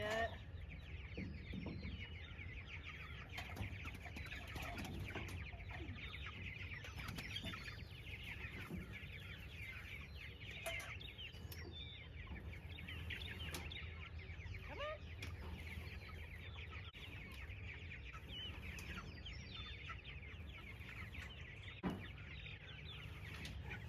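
Meat chicks in a chicken tractor cluck and cheep steadily throughout, a busy flock at close range with a constant low rumble underneath and no talking.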